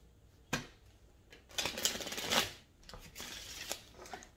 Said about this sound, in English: I'll show y'all how to shuffle today.